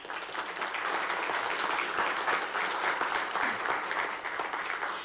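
An audience at a college district board meeting claps steadily, a dense, sustained round of applause from a room full of people that holds at an even level for about five seconds.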